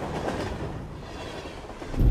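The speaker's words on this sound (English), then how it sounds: "A train carrying 475 passengers was speeding through the tracks." A steam-era passenger train from 1853, carrying 475 passengers at about 60 km per hour, rumbles steadily along the rails with a continuous clattering roar that swells slightly at the end, with no voices.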